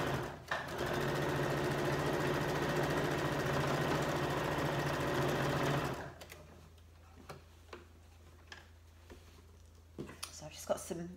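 A sewing machine runs the last seam of an envelope cushion cover in one steady, loud whirring stretch of about five seconds, then stops, leaving quiet room tone with scattered small clicks and handling noises.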